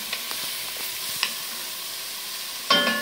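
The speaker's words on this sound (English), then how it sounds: "We want to do these onions until they're translucent." Onions sauté in a Dutch oven with a soft, continuous sizzle, broken by a few light stirring scrapes and a louder hiss near the end.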